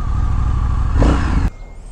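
A 2023 Indian FTR Carbon motorcycle being ridden, its engine rumbling loudly up close with a brief rev swell before dropping to a quieter idle-like drone.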